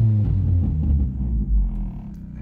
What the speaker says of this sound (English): So I'm gonna give a little rev here and check it out.